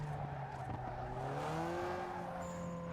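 A car engine revs in NFS Underground 2, its tonal note climbing and sliding through gear changes with a faint tire squeal and a thin whine near the end, steady and close with no talking.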